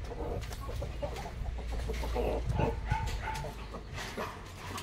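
Roosters and chickens in their coops cluck and crow in a busy farmyard chorus, with a dog barking among them, steady and fairly close.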